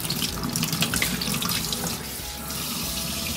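Tap water runs steadily into a sink while plant leaves are rinsed under it, a close, continuous splashing rush with no talk.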